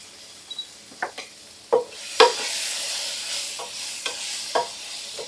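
Trail mix tossed in teriyaki sauce in a hot pan, a soft sizzle under a handful of scattered clinks and scrapes as pieces are stirred around.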